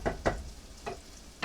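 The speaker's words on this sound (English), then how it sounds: "Once you hear that sizzle" Browning mushrooms sizzling in a pan as their moisture cooks off, with a few close scraping stirs over a soft frying hiss.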